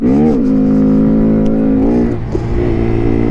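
Honda Grom motorcycle ridden off-road on dirt trails, engine droning loud and close with rising and falling revs as it accelerates, the pitch climbing, easing, then climbing again.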